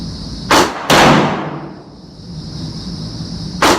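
Three loud, close rifle shots from a .35 Remington loaded with H335 powder crack out at an indoor range. The second shot is followed by a long reverberant decay, and the third comes after a pause.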